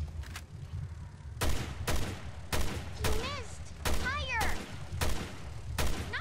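Heavy single gunshots boom roughly once a second in Resident Evil Revelations 2, loud and close, each shot sharp and separate, with a voice calling out briefly between them.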